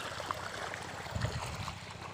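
Creek water flows in a steady, fairly quiet wash beside a vegetable plot of string beans and eggplants, with a constant trickle and no voices.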